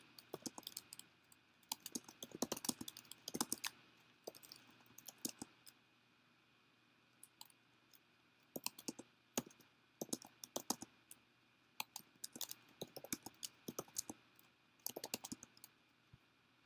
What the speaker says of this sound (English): So again, you'll want to type in your path to Rosetta.